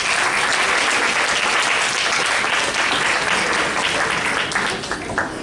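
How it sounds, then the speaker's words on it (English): Loud, sustained applause from an audience at a Bible quiz tournament, clapping steadily for two competing quiz teams and fading slightly at the end. "let's give both of these teams a round of applause"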